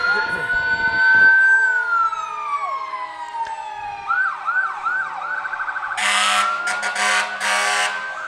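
A fire engine siren wails loudly at a town parade, with a long falling tone, then rapid yelping sweeps, then a harsh blaring horn blast near the end.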